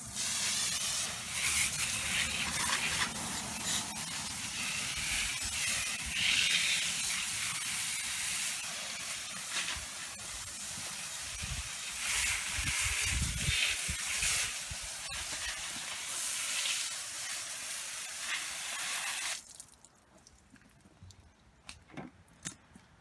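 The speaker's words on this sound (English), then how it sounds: "First step to washing your bike is giving it a spray." A garden hose sprays water over a bicycle for washing, a steady broad hiss with fluctuating intensity that runs close and continuous for most of the time, then cuts off abruptly, leaving near silence with faint small knocks.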